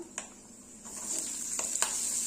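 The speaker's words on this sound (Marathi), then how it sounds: "शेंगदाणे देखील छान इथे तळून झालेले आहे यामध्ये आपण घालणार आहोत कांदा" Onion fries with peanuts and moong dal in a pan for ragi upma. A soft, steady sizzle is close and fairly quiet, and a few brief stirring clicks stand out above it.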